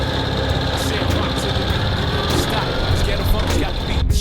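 A sidecar motorcycle's engine idles steadily on a Tokyo street, a continuous loud rumble with constant buzzing vibration running throughout and no break.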